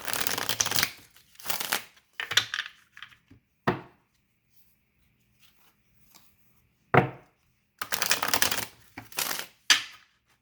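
A Halloween tarot deck being shuffled by hand: several sharp riffling bursts of cards, each lasting a second or less, separated by quiet pauses, close and crisp, with no voices.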